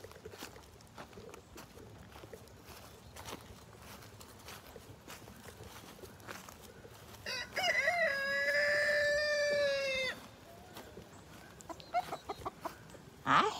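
Chickens cluck softly in a yard, then a rooster gives one loud, long crow near the middle, followed by more scattered clucks and a brief squawk at the end.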